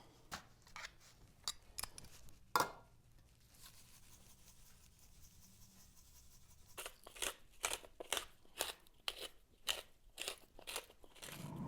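Fresh black pepper is ground onto flank steak: quiet, close crunchy clicking from the grinder in a short burst, a pause, then a longer run of rapid crackling turns.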